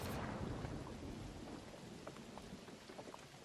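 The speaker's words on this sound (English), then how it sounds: "Well, it's raining." A thunderstorm in The Oregon Trail video game: heavy rain hisses steadily while a deep thunder rumble rolls in at the start and slowly fades, with scattered drop patter standing out, no speech.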